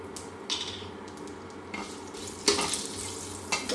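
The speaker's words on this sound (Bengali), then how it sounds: "ফোড়নে দেবো কালো জিরা," Black cumin and a bay leaf torn into four pieces temper in hot mustard oil, making a faint, close sizzle broken by a few brief stirring scrapes.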